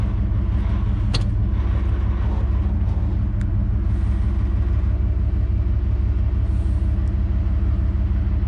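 A pickup truck engine rumbles steadily and heavily up close while a fifth-wheel trailer is hitched in freezing winter weather. The low drone stays fairly even.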